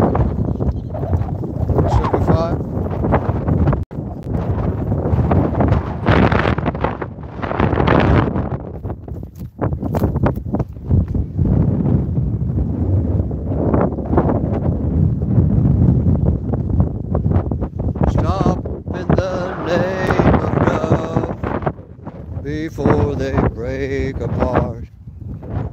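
Heavy wind buffets the microphone almost continuously, a loud roaring rumble that nearly drowns out a person speaking underneath.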